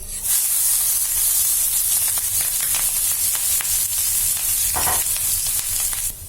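Finely chopped ginger, garlic and green chili hit hot oil already tempered with cumin, mustard and fennel seeds, setting off a loud, continuous hissing sizzle with crackles close to the pan; no speech.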